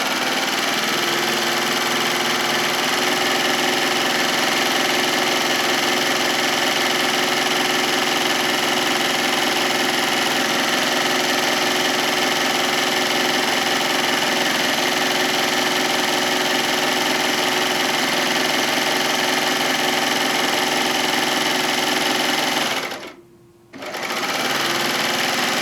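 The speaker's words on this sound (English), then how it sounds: "We'll just sew the ties on." Sewing machine stitching ties onto an apron made from a fabric panel. A loud, steady mechanical whir runs almost unbroken, stopping for about a second near the end before starting again.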